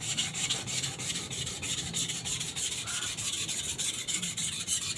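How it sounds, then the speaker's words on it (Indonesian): An Elmax steel knife being sharpened on a Japanese whetstone, a steady, soft rasping rub of blade strokes repeating closely and quietly without speech. "Ini karena bajanya enak ya, kemakan banget di batu Jepang"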